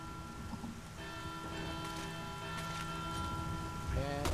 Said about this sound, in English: Shoot the bells, I think. Because the bells are shiny.